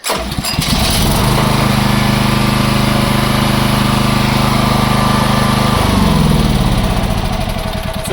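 A Champion 7 kW gas-petrol generator runs loud and close after a manual pull start, its engine settling into a steady drone before the pitch shifts near the end.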